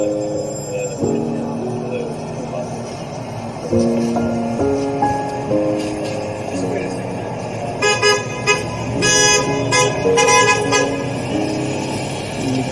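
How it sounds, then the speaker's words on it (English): Car horns honk on a city street in support of an animal rights fur protest. Short and longer toots come from several passing vehicles over traffic noise, with a cluster of honks toward the end. "We've got honks of support"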